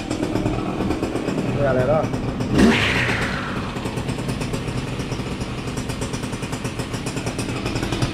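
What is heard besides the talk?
two-stroke brushcutter engine PJ53R running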